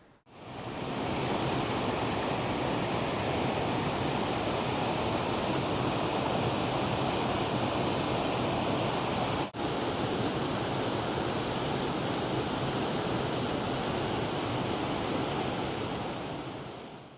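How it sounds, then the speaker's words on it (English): A waterfall in Rocky Mountain National Park roars continuously, a dense steady rush of water with no voices. "I was at some pretty cool waterfalls"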